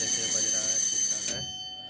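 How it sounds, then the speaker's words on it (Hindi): Alarm bell ringing inside an Indian Railway locomotive cab before engine start, a loud steady electric ring lasting about a second and a half, then cutting off abruptly into quieter cab hum. "पहले अलार्म बजा लेते हैं"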